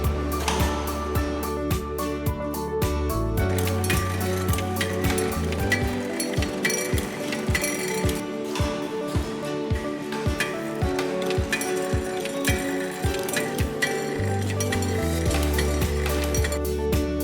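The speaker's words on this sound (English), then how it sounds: "Any shapes of beads or pipe could be cut evenly in this machine." A jewelry bead cutting machine cuts hollow gold and silver beads and pipe, a loud busy mechanical clatter with rapid repeating ratcheting clicks and a steady pulsing rhythm of cuts.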